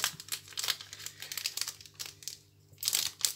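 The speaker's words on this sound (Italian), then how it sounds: "allora apriamo il pacchetto" A packet of Panini Captain Tsubasa football cards is torn open with loud, close crinkling and crackling plastic in quick, irregular bursts over a faint steady hum.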